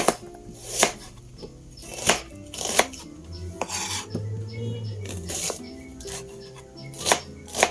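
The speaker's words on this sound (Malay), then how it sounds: "sekarang ni saya nak potong bawang-bawang ni semua" Onions are chopped with a knife on a board, producing a sharp, irregular series of close knocks that fall roughly every half second to a second, with faint tonal sounds underneath.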